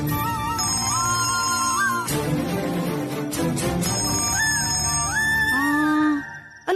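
A mobile phone ringtone rings loudly and continuously in a bright, synthesized melody, playing alone with no talk until it cuts off near the end.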